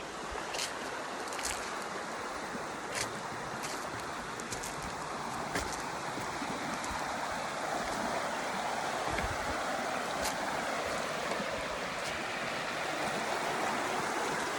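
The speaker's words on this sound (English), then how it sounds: "This is the creek." A creek near a house flows in a steady, broad rush of water with faint splashing and scattered brief clicks and ticks, continuous and moderately close, with no voices.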